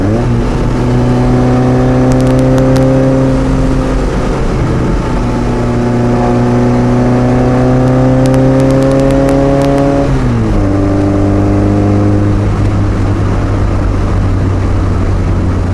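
A 1960 Austin-Healey Bugeye Sprite engine drones steadily from inside the moving car, its pitch easing with each downshift into third, harmonics dropping and rising again, loud and continuous with no talk.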